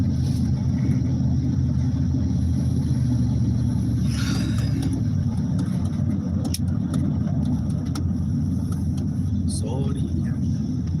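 Car driving along a road in Mexico, passing a line of trucks, with a steady low engine and road rumble throughout and people talking over it.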